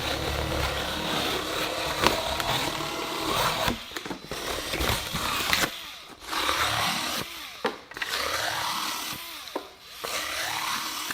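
A small mini chainsaw buzzes and chews through wood in several bursts, pausing briefly between cuts, close and fairly loud.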